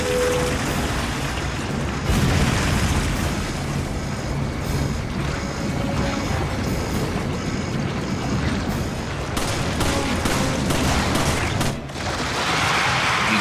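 Gunfire and explosions in Resident Evil 5 form a loud, continuous barrage of booms and rapid shots layered with rumbling game ambience, keeping up without pause throughout.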